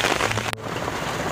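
Steady rain patters and hisses on a surface, a dense continuous wash of drops with one brief sharp tap.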